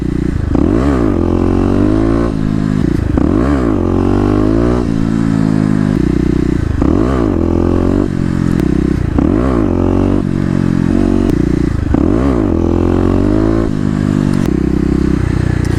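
A Kawasaki KLX250 dirt bike revs hard and loud up close during wheelies, its engine repeatedly rising and dropping in about six rhythmic surges with clattering mechanical noise.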